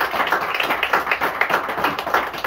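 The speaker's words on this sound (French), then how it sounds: "qu'on applaudisse pour nos enseignants." A crowd claps together for teachers at a celebration, a dense, steady patter of many hands sustained without break and without voices.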